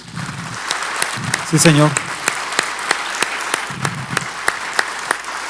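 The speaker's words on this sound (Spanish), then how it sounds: "¿Por qué no le das un aplauso al Señor por eso?" Audience at a Spanish-language conference applauding steadily throughout, a dense close patter of clapping, while a voice calls out briefly over it.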